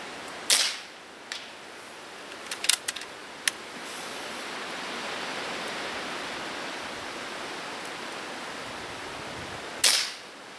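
Rifle shots fired at a 100-metre target outdoors, a few sharp cracks spaced several seconds apart with smaller ticks between, heard over steady wind or rushing-water noise.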